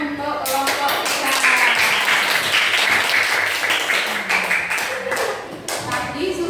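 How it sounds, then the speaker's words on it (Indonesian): Indoor audience applause for a student group after a class presentation, a dense, steady burst of many hands clapping that swells and then thins toward the end. "Beri tepuk tangan untuk kelompok kita."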